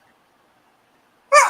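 A single short, sharp sneeze bursts out close by at the very end, after near silence.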